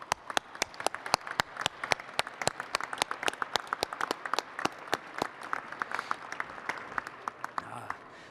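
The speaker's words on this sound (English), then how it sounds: "Let's give them a round of applause." An audience at a charity preview gala for the auto show claps in a scattered, crisp round, with individual hand claps standing out clearly rather than blending into a roar.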